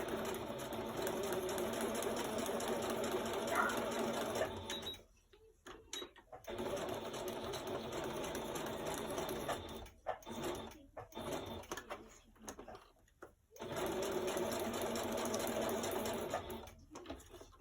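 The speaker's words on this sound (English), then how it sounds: "Just a quick straight stitch on this." A sewing machine runs a straight stitch across a junk journal pocket, whirring steadily in close bursts at the start and end with quiet gaps and some talking in between.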